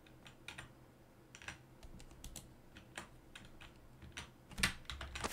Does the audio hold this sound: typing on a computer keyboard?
yes